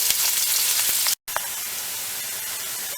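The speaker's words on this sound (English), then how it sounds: "That's our onions sizzling away nicely now" Steady, loud sizzling and crackling of onions frying in a pan, with a brief cut to silence partway through.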